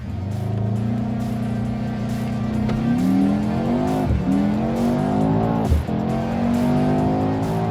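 A car held on the brake in drag race mode with launch control, then launching hard: a loud, steady engine roar rises through several gear changes with brief dips at each shift, close and continuous without speech.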